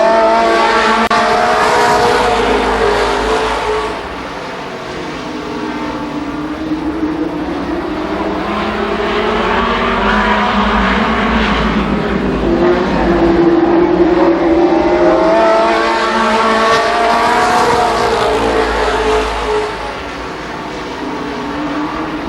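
Race cars at Columbus Motor Speedway roar past in a continuous loud pack during a Labor Day championship race, with engine notes rising and falling as they sweep by on the lap.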